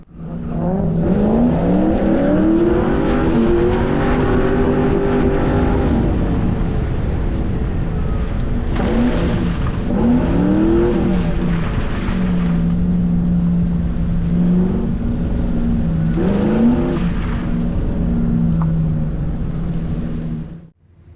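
Drift car making a run on a slippery, muddy track at a drift event, engine revving loudly up and down in repeated sweeping pulls, close and continuous with wind buffeting, no talk.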